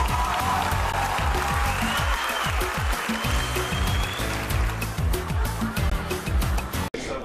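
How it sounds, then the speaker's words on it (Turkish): A crowd at a Rumeli wrestling match claps spontaneously, dense continuous applause with music playing underneath, loud and sustained until a sharp break near the end. "Seyirciden kendiliğinden alkışlar geliyor."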